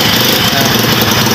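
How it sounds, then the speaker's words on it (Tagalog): Honda C100 motorcycle engine running steadily just after starting, a loud, close, continuous mechanical drone with no speech over it. "one click yung motor niya"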